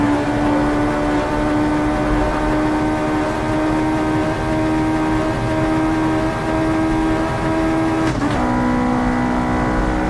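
A car engine drones at high, steady revs in the Assetto Corsa driving game, a loud sustained tone that dips briefly as a gear shifts near the end, with no talking.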